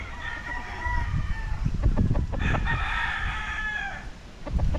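A rooster crows close by, a long drawn-out call, with hens clucking around it in a busy backyard farm in Ibaan, Batangas, Philippines.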